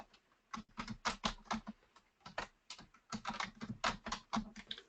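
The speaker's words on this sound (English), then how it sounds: "what we'll do is we'll type in a password here" Someone types a password on a computer keyboard, a close, quiet run of clicking keystrokes in quick bursts with brief pauses between groups.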